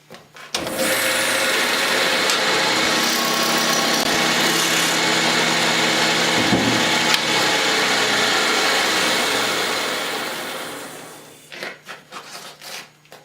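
Wood being roughed out on a lathe in an organ builder's workshop, a steady loud whirring and rubbing of the cutting tool that runs continuously for about ten seconds, then winds down into a few scattered knocks.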